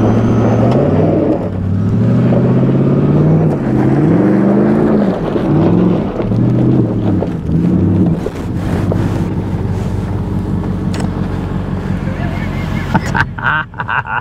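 A Ford F-150 Raptor R in two-wheel drive with an open differential works over an off-road obstacle, its engine droning and rising loudly up close with wind buffeting the mic and voices mixed in.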